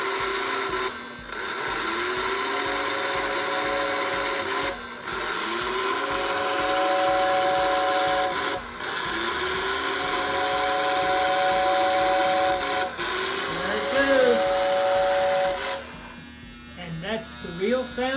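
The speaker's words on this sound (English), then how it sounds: "First we'll have to hear the whistle." Steam locomotive whistle from a model train layout, sustained harmonic tones in several repeated blasts of a few seconds each, with a steady electric buzz from the model's motor underneath.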